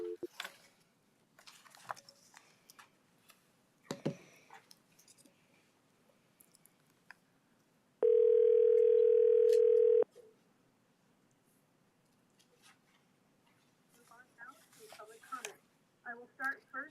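At a county government meeting, a two-second steady telephone tone sounds while a caller is dialed in, loud and alone. It is set among quiet room noise, scattered clicks and people talking softly before and after.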